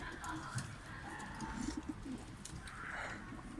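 Pigeons coo softly in low, rolling murmurs amid faint background noise and rustling.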